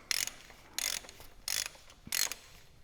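A ratchet wrench loosening connecting rod nuts on a Farmall engine's pistons, four evenly spaced bursts of rapid metallic clicking, close and distinct with quiet gaps between.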